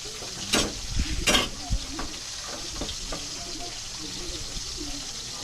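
Steady sizzle of food frying in hot oil outdoors on a gas stove in strong wind, a constant crackling hiss with a few louder pops and stirring clatters near the start.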